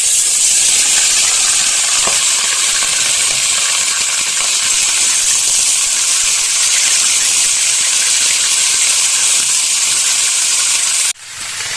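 Cabbage cooking with papaya in a hot pan gives off a loud, steady steaming hiss that holds for several seconds before dropping off abruptly near the end.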